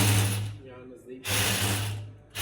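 Power drill running in bursts while rethreading the spark plug hole on a Honda CD 70 motorcycle, a steady whirring with a short pause midway, close by.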